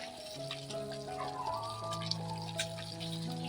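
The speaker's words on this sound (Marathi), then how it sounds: "मध्ये गरम पाणी टाकून देते मी" Hot water is poured into a pan of mushroom curry, a steady trickling splash with a faint tonal hum running beneath it.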